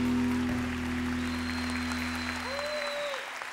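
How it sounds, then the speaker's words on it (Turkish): Studio audience on a Turkish television talk show applauding the guests, a loud sustained burst of clapping from the first moment that holds steady throughout, with no talking over it. "konuklarımıza kocaman bir alkış alalım"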